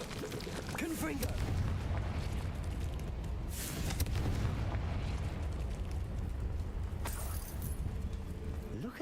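A Confringo fire-blast spell explodes in a Hogwarts video game, setting off a sustained, dense roar of blast and rumble that stays loud throughout, with a few sharper bursts and crackles on top.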